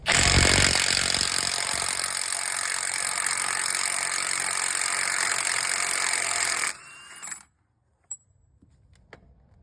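A 36 mm wheel bearing nut is removed from a 2013 GMC Yukon front axle, with a loud, steady power-tool whir running close by for about seven seconds, then cutting off, followed by a few faint clinks.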